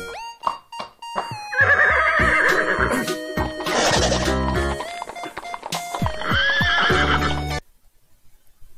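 A horse gives a loud, close whinny that rises and wavers through a long descending call, with a few hoof-like knocks at the start and silence after it ends.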